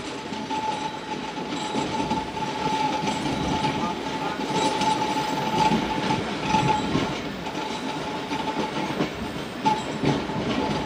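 The Karachi Express train runs near Hyderabad with a continuous rumble and rhythmic clatter of wheels on rails, heard from up close, with a steady faint tone and occasional quiet voices.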